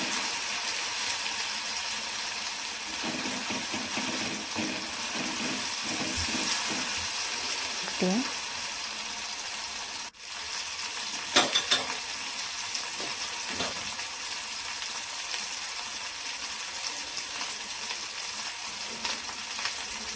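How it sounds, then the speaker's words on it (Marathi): Masala fries and is stirred in a pan for a Maharashtrian besan patwadi curry, a continuous even hiss with occasional spoon scrapes and small knocks throughout. "स्मेल येईपर्यंत मस्त परतून घ्यायचं."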